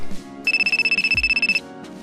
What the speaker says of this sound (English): my phone out of nowhere started ringing.